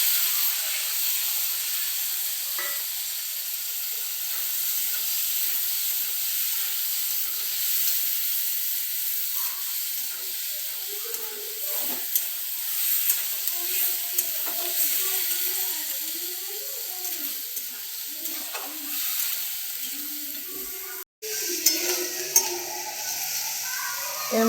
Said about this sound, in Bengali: তেজপাতা ভাজা হয়ে গেছে, এখন এর মধ্যে দিয়ে দেবো মটর